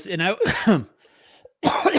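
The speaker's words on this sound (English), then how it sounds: "my coughing starts back up again right at the beginning of the show" A man coughs in short harsh bursts between stretches of casual speech, close to the microphone and fairly loud.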